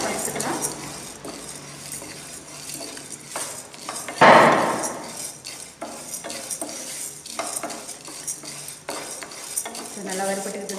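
Toor dal dry-roasting in a pan for rasam, stirred with a utensil that scrapes and clinks against the metal in a steady busy rhythm, with one louder knock midway.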